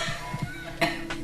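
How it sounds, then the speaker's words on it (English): A speaker in a community conversation coughs in a couple of short, close bursts within a second of room tone, with faint voiced sounds around them. "Excuse me, coughing as well."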